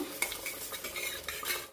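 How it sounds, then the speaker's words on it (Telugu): A tadka tempering is stirred into cooked dal in a pot, making a brief close sizzle with soft scraping and clinks of a spoon against metal. It is short and moderately quiet, then cuts off abruptly. "తాలింపు వేసేస్తాను"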